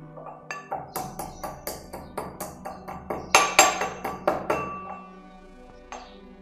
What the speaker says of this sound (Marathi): चला तर मग आता आपण या मिऱ्यांची पावडर बनवून घेऊया